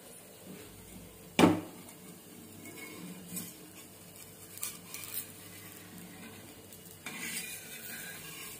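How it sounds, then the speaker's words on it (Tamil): A dosa cooks on a pan for a home-style South Indian breakfast, with faint sizzling under scrapes and clinks of a utensil and one sharp knock early on. "தோசையே இப்போ தான் நான் சுடுறேன்"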